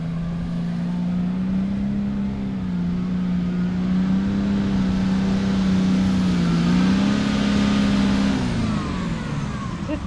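A 4WD vehicle's engine revs steadily and loudly as its tyres dig in on a climb near Cape Palmerston, a strained droning hum that rises and dips slightly before easing off near the end.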